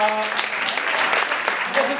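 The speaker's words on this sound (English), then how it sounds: "another round of applause for everyone you saw tonight" Audience applause at the close of a monthly live storytelling show in Melbourne, a steady wash of clapping from a crowd filling the room for a couple of seconds.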